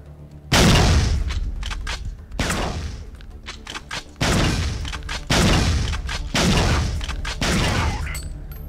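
Heavy shotgun blasts in the Battle X VR game ring out one after another, about seven loud booming shots at uneven intervals, each with a short rumbling tail and no voices over them.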